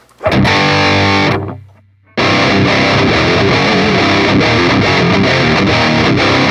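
Guitar through a Line 6 POD Express on its heavy amp model, set clean of modulation, delay and reverb: a loud distorted chord rings out and fades to near silence, then a dense, driving distorted riff plays continuously.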